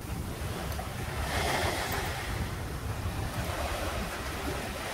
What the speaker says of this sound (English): they're probably not going to hear me, I'm not supposed to hear me because it's extremely windy